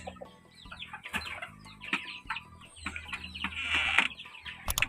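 Chickens and young chicks cluck and peep continuously at close range in a backyard flock, with overlapping calls and soft chirps throughout and no talking.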